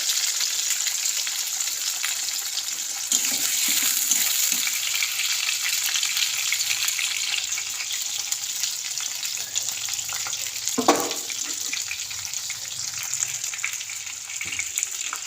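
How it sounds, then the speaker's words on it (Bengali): Potatoes fry in a pan for a Bengali cabbage dish with fish head, giving a continuous bright sizzle with occasional stirring scrapes, close and steady, with no speech. "আলুগুলো ভেজে তারপরে এর মধ্যে মশলা দেবো।"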